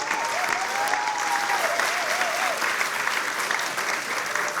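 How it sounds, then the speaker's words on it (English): A Hall of Fame event audience gives sustained, dense applause for the inductees, loud and even throughout, with a faint whistle rising over the clapping early on. "How about a round of applause for"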